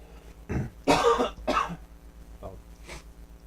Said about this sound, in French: je vais tousser là